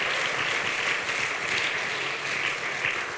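A church congregation at a Sunday service breaks into dense, sustained applause, a continuous wash of many hands clapping at steady volume throughout.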